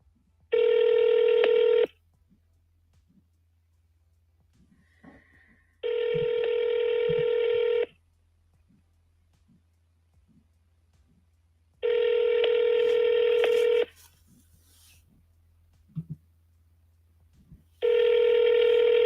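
Telephone call tones before an automated voicemail: four evenly spaced bursts of ringback tone, each about two seconds long, separated by quiet gaps with faint line noise.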